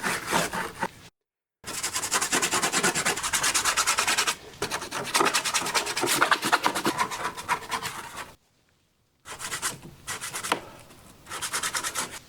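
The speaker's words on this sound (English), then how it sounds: "Rubbing it in, getting it into the grooves." Oil paint being rubbed into the grooves of a canvas, long continuous scrubbing strokes with a rough, scratchy texture, close and loud, broken by a few short silent pauses and with no talking.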